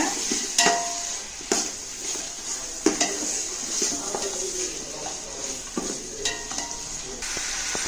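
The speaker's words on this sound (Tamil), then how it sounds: "போட்டு நல்லா மிக்ஸ் பண்ணி விட்டுக்கோங்க" Mutton biryani ingredients stirred in a pot over sizzling heat, a spoon clanking sharply against the metal sides at irregular intervals while frying hisses steadily beneath.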